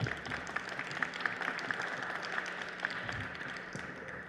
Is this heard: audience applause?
yes